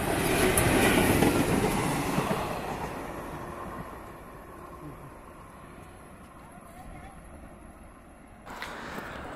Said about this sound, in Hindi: WAP-4 लोकोमोटिव के साथ सामने से आप देख सकते हैं सेहरामऊ की दिशा से स्पीड ट्रायल के लिए PCEE सर की स्पेशल ट्रेन आ रही है।